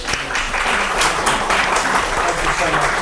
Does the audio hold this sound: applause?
yes